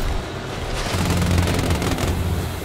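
Rapid, steady automatic gunfire from the turn-based game Showgunners, a loud rattling stream of shots that carries through the whole moment with no talking.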